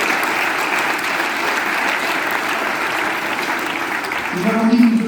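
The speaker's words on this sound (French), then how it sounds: "Je vous demande d'applaudir l'ensemble de ces personnes." A crowd at a political election rally applauds steadily, with dense clapping that holds level and swells near the end. A voice starts to come through as the clapping peaks.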